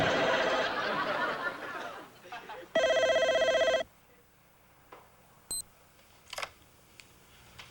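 A telephone rings once with a loud electronic trill in a home, following a stretch of voices, then quieter clicks and small sounds.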